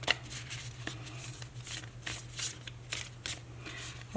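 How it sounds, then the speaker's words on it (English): Oracle cards being shuffled by hand during a pick-a-card reading, a steady run of soft riffling and flicking bursts over a low background hum, with no talk. "I shuffle these cards so we can pull in the messages for you"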